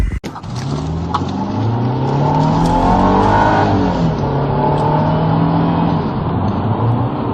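A 2020 Infiniti Q50 Sport with a 3.0-liter twin-turbo engine fires up with a sharp start, then settles into a loud, close, continuous engine drone with rising and falling revs and no one speaking.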